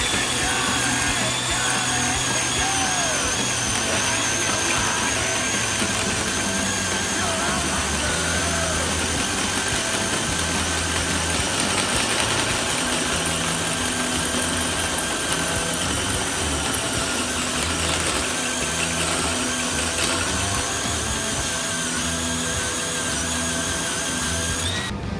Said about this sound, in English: First piece of tubing with the tubing notcher stand, and let's see how she performs.